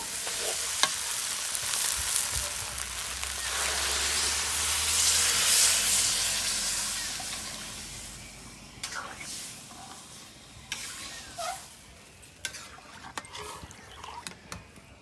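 Water is poured over sautéed rice and lentils for bhuna khichuri, setting off a loud, surging hiss that peaks and then settles into quieter bubbling, broken by scattered stirring knocks and clinks.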